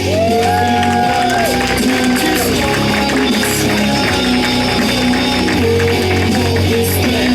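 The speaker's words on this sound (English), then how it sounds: "Please give a warm round of applause for Adam Feuerberg." A loud, dense comedy club audience roars and cheers continuously, with shouts and whoops over a steady wash of clapping throughout.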